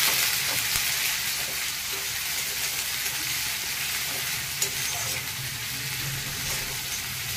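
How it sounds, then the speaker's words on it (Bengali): Onions frying in a pan for a Bengali koraishutir dhoka, a dense continuous sizzle with a bright hiss, close and steady throughout, with no voices. "পেঁয়াজটা একটু ভেজে নিই লাল লাল করে"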